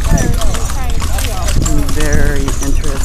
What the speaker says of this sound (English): we are on a horse-drawn carriage in the town of Edfu